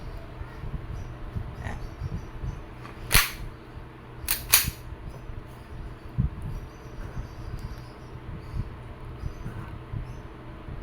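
An Umarex SA10 airgun pistol fires pellets and BBs, giving a few sharp, close snaps: one single shot followed shortly by a quick pair, over a quiet background with faint handling noise.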